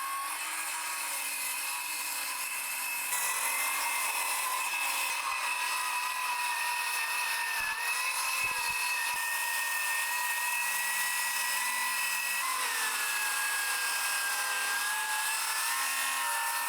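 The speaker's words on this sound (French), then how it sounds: "je vais pouvoir prendre ma scie circulaire et passer ici le long de mon guide pour faire ma première découpe" A circular saw whines steadily through wood along a guide, a sustained high-pitched cutting drone with slight pitch shifts as the blade works.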